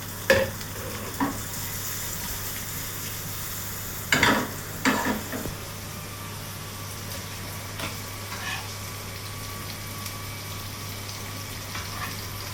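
Onion frying in a pan for tomato chutney, a low steady sizzle broken by a few scraping stirs and clatters near the start and middle.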